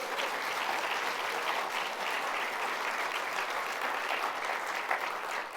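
A festival audience claps for a poet in a dense, steady round of applause that holds at an even level throughout, with no talk over it.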